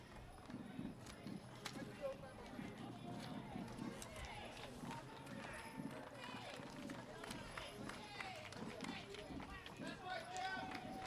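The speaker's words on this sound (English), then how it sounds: "Beautiful, beautiful white horses." Steady clip-clop of white horses' hooves on pavement at the Garden Grove Strawberry Festival parade, continuous and fairly close, with people talking and crowd noise throughout.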